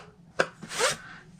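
Paper scored on a Simply Scored scoring board for a Stampin' Up! tent box: a quick sharp scrape followed by a longer rubbing drag, close and quiet, with no talk.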